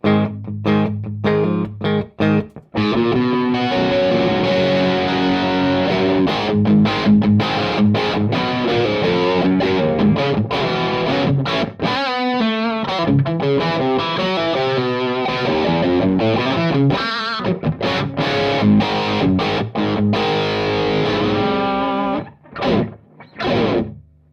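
Three distorted guitar amplifiers, a Marshall and two Vox AC30-type amps, play together loudly, a thick, saturated riff with chords and lead lines, briefly pausing near the start and end.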